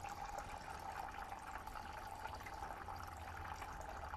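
Water flows steadily into a vessel in a tabletop energy-device demonstration, a continuous faint rushing and trickling with a steady tonal ring throughout, heard alone without talk.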